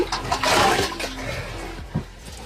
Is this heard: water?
yes